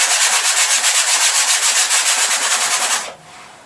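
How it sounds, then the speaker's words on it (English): Sandpaper rubs back and forth across an acrylic painted canvas in quick, loud, evenly spaced strokes, about a dozen per few seconds, close up, then stopping abruptly. "If you do, you just start with sandpaper."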